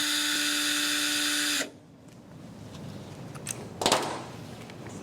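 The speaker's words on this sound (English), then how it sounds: "And you just drill." A power drill runs at a high steady whine for over a second, then stops abruptly, leaving quiet room noise with a couple of faint knocks and clatters afterward.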